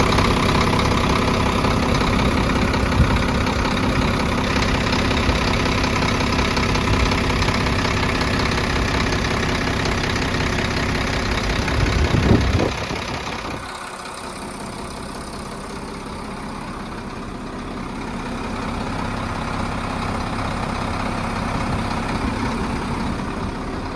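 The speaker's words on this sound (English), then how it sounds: "Now you can get the sound of the engine." A truck engine idles steadily with a deep, constant rumble and clatter, briefly shifting around midway before settling into a quieter idle.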